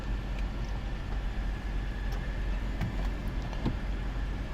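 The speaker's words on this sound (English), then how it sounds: "with the pleasant sound of this car beside me" A car idles or rolls by close at hand, a steady broadband engine and road rumble filling the whole stretch with a few faint clicks on top, no voices.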